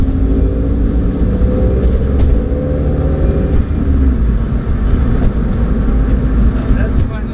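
A Scion tC with its muffler deleted revs loud and close from inside the car, its raw engine drone rising and falling steadily throughout.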